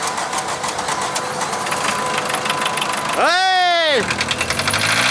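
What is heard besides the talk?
car engine running on used deep fryer oil, starting and running away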